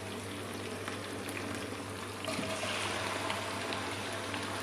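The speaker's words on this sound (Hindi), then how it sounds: "और चिकन को हम भून लेंगे जब तक इसका कलर चेंज नहीं होगा।" Chicken pieces frying in a pan for a white karahi, a steady soft sizzle and bubbling hiss running throughout with no talk.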